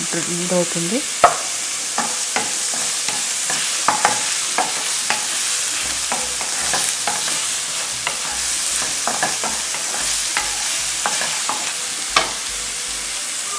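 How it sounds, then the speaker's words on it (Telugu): Onion fries and is stirred in a pan, a steady dense sizzle running throughout, broken by repeated sharp scrapes and taps of the spatula against the metal at irregular intervals. "ఆనియన్ బాగా ఫ్రై అయ్యేటప్పటికి మనం కొంచెం సాల్ట్ వేద్దాం"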